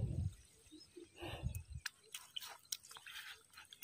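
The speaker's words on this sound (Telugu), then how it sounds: "ఆల్రెడీ కొంచెం కొంచెం లీకేజ్ వాటర్ వెళ్తూ ఉంది" Slow water drips from a leak, scattered irregular plinks and small splashes at close range, with low rumbling bumps early on and no voices.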